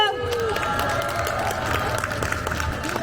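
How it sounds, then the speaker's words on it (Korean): A crowd at a Chungcheong rally calling for Yoon Suk-yeol's impeachment claps warmly for a former lawmaker, with dense, sustained applause under amplified voices and tones. "우리 김남국 전 의원님께 다시 한번 뜨거운 박수 부탁드립니다."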